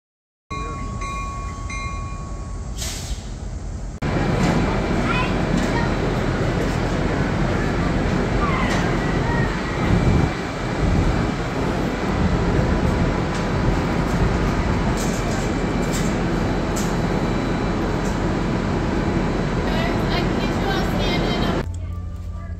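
Scenic tourist train ride in Buckingham, heard from a seat close to the motor: a loud, steady rumble of engine and rolling wheels runs throughout, with rattles and clanks, after a quieter opening.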